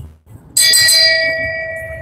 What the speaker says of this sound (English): ring that bell again